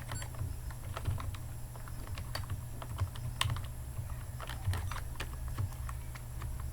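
Someone types code on a computer keyboard, with quick irregular clicks and clacks, fairly close and quiet, over a low steady hum and no voices.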